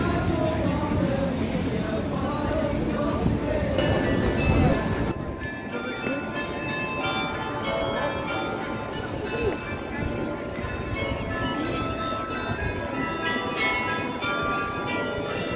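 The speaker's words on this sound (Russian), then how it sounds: "Во многих европейских городах такие вот на башнях играют колокола." Tower bells in Bruges, Belgium, ring out across the town, overlapping tones sustained throughout; a louder, denser burst fades after the first few seconds, leaving a lighter ringing over street ambience.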